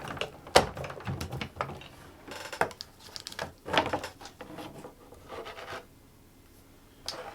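Die cutter machine being cranked with thin paper passing through: quiet, irregular clicks, taps and scraping rattles in clusters, fading toward a near-silent stretch before one last click.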